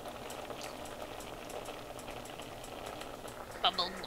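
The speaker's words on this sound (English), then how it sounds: "that bubbling sound is very useful to know when the thing is boiling" Water boiling in a pot on a kitchen stove, a steady close bubbling and simmering texture that runs throughout, with a brief clink near the end.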